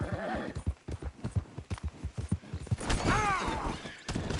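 Horse hooves clip-clop in steady rhythm while riding in the video game Red Dead Redemption 2 on PS4, with a whinny rising near the end; the sound is close and continuous, with no talk over it.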